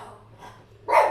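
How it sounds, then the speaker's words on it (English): A dog gives one sharp bark at the end after a quieter stretch of room noise, nearby and indoors. "Shut up, dogs."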